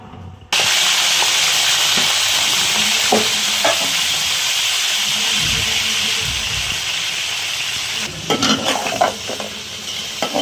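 Crabs sizzle loudly and continuously in a hot pan after a sudden start, with occasional clinks and scrapes of a utensil against the pan toward the end.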